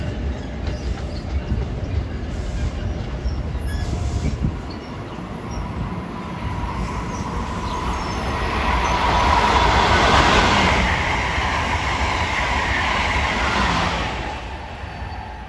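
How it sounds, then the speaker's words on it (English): Amtrak Acela 2170 and a New York-bound train pass on the Northeast Corridor at Linden, New Jersey, a steady rail roar that swells to a broad peak near the middle and then eases, with no voices. "We got a New York train arriving at 5:27, and Amtrak Acela 2170 from Washington to Boston is gaining on him rapidly."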